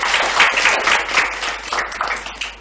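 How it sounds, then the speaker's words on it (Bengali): An audience at a debate for visually impaired students breaks into warm applause, with dense clapping that swells and fades in waves, fairly close, and no speech over it. "আপনারা সকলে তাদেরকে আরেকবার হাততালি দিয়ে উৎসাহিত করেন"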